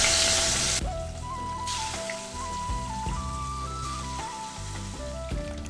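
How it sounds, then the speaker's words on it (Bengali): Fish dropped into hot oil seasoned with salt and turmeric in a wok, giving a loud burst of sizzling that settles into a steady fry beneath background music. "তেল গরম হয়ে গেছে, মাছগুলো ছেড়ে দিই।"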